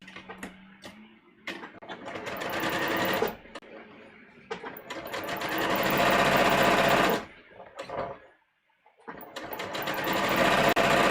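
A sewing machine stitches a bust dart on a bodice muslin in several loud, fast bursts of whirring, separated by short pauses and a near-silent gap before the final run.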